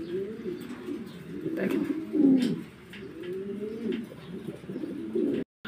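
Pigeons in a loft coo in low, repeated throaty phrases, close and fairly loud, several calls overlapping, with a brief spoken word near the start.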